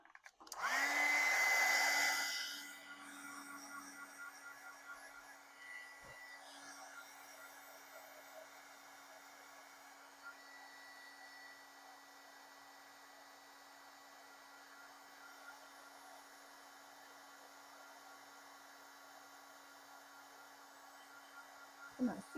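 A hot-air craft heat tool blows to melt mica flakes: a loud whooshing blast for a couple of seconds, then a quieter steady electric hum that runs on under faint background sounds.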